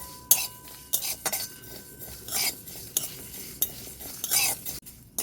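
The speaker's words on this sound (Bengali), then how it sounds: "এভাবে হালকা আঁচে মশলাগুলোকে ভেজে নেব।" Spices for a mango pickle stirred in a pan over low heat, with a spoon scraping and clinking against the metal in irregular bursts, close by. A soft sizzle runs faintly underneath.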